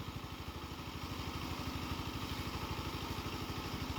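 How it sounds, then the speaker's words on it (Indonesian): A dompeng diesel engine runs steadily at a car and motorcycle wash, close by and rather faint. Its low, even chugging pulse carries no talk. "Mesin dompeng ya kan"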